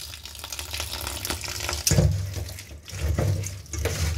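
Bottle gourd greens are rinsed under a running tap, with a steady stream of water splashing and gurgling close by and brief surges as the leaves are moved in the flow.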